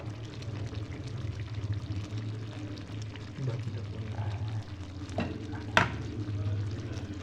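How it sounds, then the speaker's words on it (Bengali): Spiced meat frying in a pan with masala paste, stirred with a spoon that scrapes and clatters, over a low continuous sizzle. A voice talks over it at times. "একটু নাড়িয়ে চালিয়ে নিচ্ছি"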